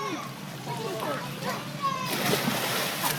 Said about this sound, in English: And she pushes down and jumps in.